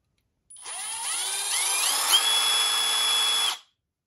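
A Milwaukee M12 Fuel cordless impact driver in drill mode whirs up from rest to a steady high-pitched spin, runs evenly for a few seconds, then stops abruptly.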